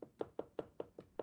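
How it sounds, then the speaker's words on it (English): Knocking on a wooden gate, six evenly spaced firm raps in quick succession, fairly close and distinct with no talk over them. "What's he that knocks as he would beat down the gate?"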